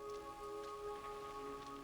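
Rain falling in a film scene from the 1988 baseball movie Bull Durham, a soft steady hiss under faint sustained background tones, with no voices.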